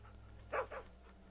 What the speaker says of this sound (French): C'est un chien, putain, c'est un putain de dog.